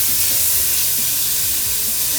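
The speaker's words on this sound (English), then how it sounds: "So go ahead and just fry the bacon." Bacon frying in a pot on an electric stove at medium-high heat, giving a steady, close sizzle with soft crackles and no talk over it.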